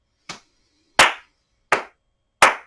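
Four crisp hand claps, close and loud, evenly spaced about three quarters of a second apart and keeping a slow count during a gentle yoga breathing exercise, with nothing else audible between them.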